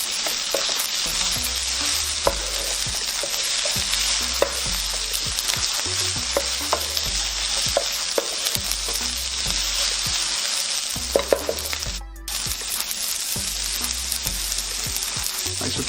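Cabbage and mixed vegetables for nasi goreng sizzle loudly in a hot pan, with repeated scraping stirs of a utensil every second or so over a constant crackling hiss and a short pause near the end.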